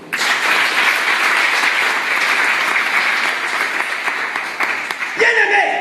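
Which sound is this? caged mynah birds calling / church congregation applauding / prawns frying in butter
church congregation applauding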